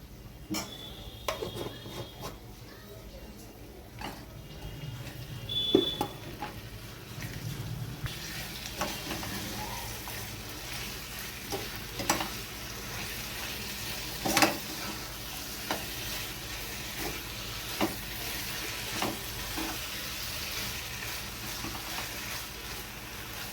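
Papaya and coconut dalna with chickpeas sizzles steadily in a pan after two spoons of ghee go in, with occasional stirring scrapes and light utensil clinks over a constant frying hiss.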